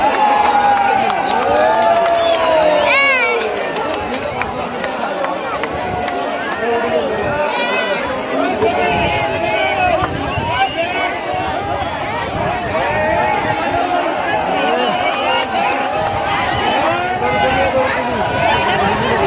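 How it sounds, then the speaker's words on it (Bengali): A large outdoor crowd at a riverside boat race cheers and shouts continuously, with a loud whistle near the start and a dense hubbub of voices throughout. "দর্শকরা কিন্তু প্রচুর আনন্দিত হচ্ছে"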